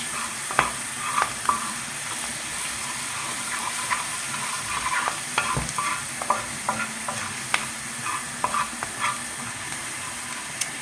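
Lamb meat frying in a pan, a continuous loud sizzle and hiss punctuated by frequent clinks and scrapes of a utensil stirring, with no talking.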